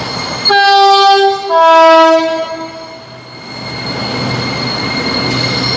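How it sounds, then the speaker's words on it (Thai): An electric train on a test run of the Red Line between Bang Sue and Rangsit sounds a loud two-tone horn, then rumbles past with a steady rolling roar of wheels on track. "ครับรถไฟฟ้าสายสีแดงบางสื่อลังสิตครับ"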